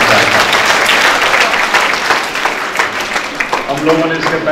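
An audience claps through a Gandhi Jayanti programme speech, a dense wash of applause that thins out toward the end, with a voice talking over it.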